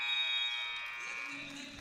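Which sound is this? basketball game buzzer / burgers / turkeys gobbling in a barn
basketball game buzzer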